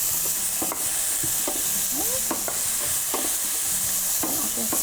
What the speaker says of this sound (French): je vais juste les mélanger un petit peu.